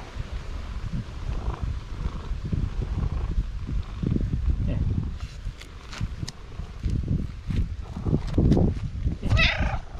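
A cat meows for food with repeated short, high mews toward the end, rising over soft rustling and murmuring, while a person talks to it affectionately.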